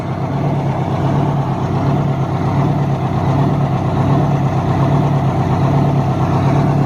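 An old truck's Detroit 430 diesel engine idles steadily and close by, a loud, continuous low rumble with an even, smoothing rhythm and no voices.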